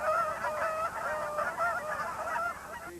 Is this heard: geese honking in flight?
yes